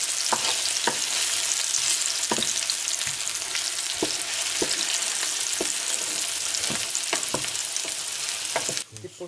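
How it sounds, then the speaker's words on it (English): Meat pie filling frying in a pot on reduced heat, a steady loud sizzle running throughout with repeated sharp scrapes and knocks of a spoon stirring, the sizzle dropping off abruptly near the end. "So you continue to stir it."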